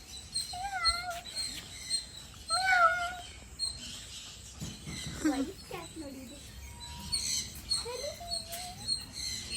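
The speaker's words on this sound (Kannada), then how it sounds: "ಕ್ಯಾಟ್ ನೋಡು" A cat meows several times in short, rising and falling calls, with soft voices and background noise around it.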